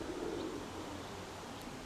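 A pigeon or dove gives soft, low cooing in a loft, faint and close against a quiet background hum, with no one speaking.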